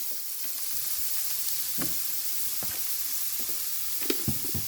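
Sliced onions sizzle and fry steadily in a hot pan with a little salt added, a continuous close crackling hiss broken by a few soft stirring scrapes and clinks near the end.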